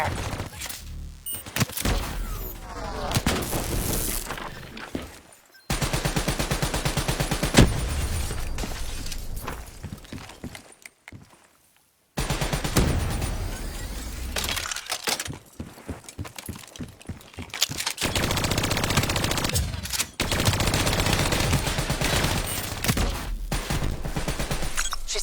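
Turret gunfire in a Call of Duty: Black Ops 3 campaign battle, dense rapid bursts of shots in long sustained runs broken by short silences, loud and close, with voices calling out among the fire.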